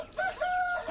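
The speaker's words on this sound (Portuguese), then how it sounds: "Um pouquinho das frangas, das galinhas." Chickens and a rooster on a farm, with short harmonic crowing calls rising and holding near, the second call longer and steadier, over faint background clucking.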